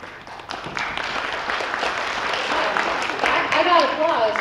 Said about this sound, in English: I got applause, Joe.